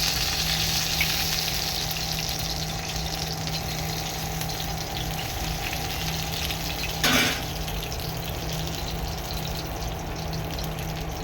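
Eggplants frying in a pan for a spicy bharit-style eggplant fry, a steady, even sizzle and hiss running throughout beneath a constant hum, with one brief louder burst of sputter near the end.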